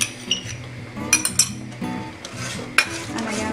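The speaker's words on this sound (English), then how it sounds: "And again mix it." A spoon stirs butter chicken gravy in a pan, giving light clinks and scraping taps against the metal at an uneven pace, with a quiet background hum and no talking.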